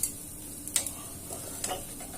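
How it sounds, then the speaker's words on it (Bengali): Noodle pakora frying in hot oil gives a soft, continuous sizzle with a few faint clicks, quiet and close, with no talking. "একটু লালটি লালটি হয়ে ভাজা হবে এই যে সুন্দর লালটি লালটি ভাজা হয়েছে"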